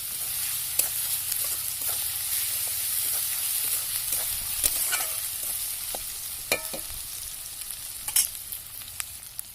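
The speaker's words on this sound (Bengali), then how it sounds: "আদা রসুনটা ভালো করে পেঁয়াজ রসুনের সাথে মিশিয়ে নিচ্ছি আদা রসুনের কাঁচা গন্ধ যাওয়া পর্যন্ত ভেজে নিচ্ছি" Onion with ginger and garlic paste fries in a pan, a continuous close sizzle broken by frequent scraping strokes of a spoon, the stirring growing sparser and clickier toward the end.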